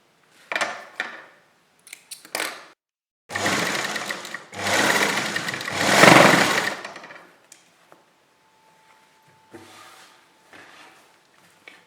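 A sewing machine stitches a straight seam on a kurti, whirring in short bursts before two longer continuous runs, then stopping with a few faint clicks and one more brief run, close and clear with no talking.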